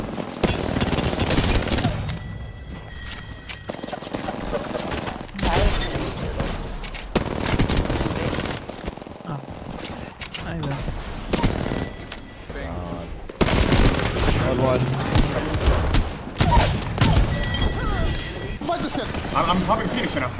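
Sustained automatic gunfire from a battle-royale shooter game rattles almost without pause in loud, dense bursts, while players talk over it.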